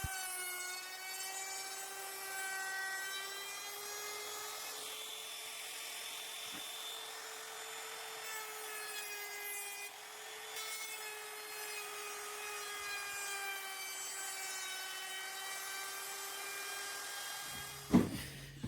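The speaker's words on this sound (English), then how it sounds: "that just helps me to only route the bits I actually want to route and not get carried away routing bits that I don't need" A wood router rounds over the marked edges of a wooden desk tidy for a hairdryer, straighteners and brushes, giving a steady, close, high motor whine that holds for about eighteen seconds before a brief clatter at the end.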